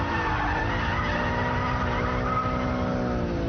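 A BMW Z3 M Roadster drifting with its rear end stepping out, engine droning loudly and steadily under a continuous broad skid of tyres, close and sustained with no voices.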